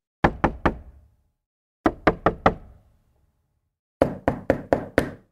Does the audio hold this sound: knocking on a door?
yes